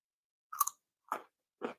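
Crisp crunching of raw crudité vegetables, daikon radish, being bitten and chewed up close, three distinct crunchy bites separated by brief silences.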